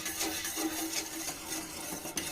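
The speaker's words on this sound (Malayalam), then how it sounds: "നമുക്ക് നല്ല പോലെ ഇത് മിക്സ് ചെയ്ത് കൊടുക്കാം" A milk and sugar mixture for a wheat flour drink being stirred in a pan over a low flame, a faint, steady scraping and swishing close by, with no talk.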